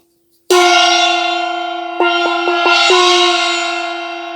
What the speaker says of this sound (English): I'll just ring his bell.